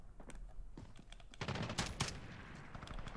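Rapid video game gunfire from Call of Duty Modern Warfare in Gun Game mode, a cluster of sharp bursts and volleys at moderate level over a steady background, growing denser and louder in the second half.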